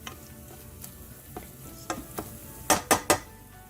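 Food sizzles softly in a pan on a low flame while a utensil stirs and scrapes, during cooking of a salmon coconut curry, with a few sharper clinks near the end.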